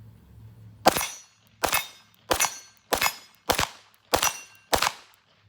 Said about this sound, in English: Threw a couple shots